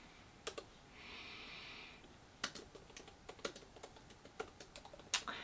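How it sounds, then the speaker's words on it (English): Quiet typing on a computer keyboard, scattered key clicks in uneven bursts, with a soft hiss early on and a sharper tap at the end. "you guys are going to be watching me typing this"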